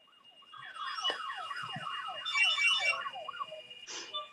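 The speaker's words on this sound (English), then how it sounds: "Pagers are going off." Pagers go off during a board meeting, a sequence of rapid descending electronic chirping tones followed by a burst of high warbling beeps and a final short tone, clear and fairly close with no talk.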